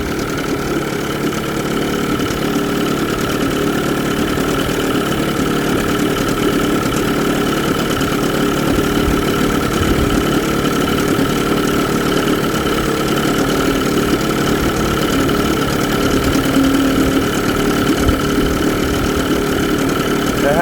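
A 1993 Evinrude 30hp short-shaft two-stroke outboard idles steadily, running hot, with a constant mid-pitched buzzing drone and slight knocking that holds evenly throughout at close range.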